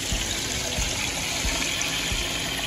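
Gray water from an RV travel trailer's gray tank drains through the clear tank hose, making a steady, loud rushing gush of flowing liquid with a low mechanical rumble underneath.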